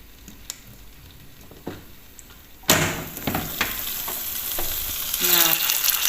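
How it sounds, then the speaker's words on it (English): A quiet hiss with a few clicks, then a sudden loud burst of chicken sizzling inside a Cosori air fryer, crackling and spitting up close. "The meat is sizzling inside there"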